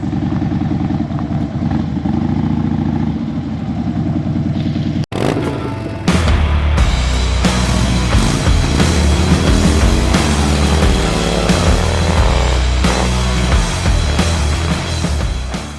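Harley-Davidson motorcycle starting and running after a ride, a low idle rumble followed by a louder close engine throb that swells and holds steady.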